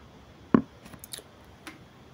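Scissors snipping excess thread off a sewn round-band hair bonnet: one sharp close snip followed by a few faint small clicks, quiet and without talk.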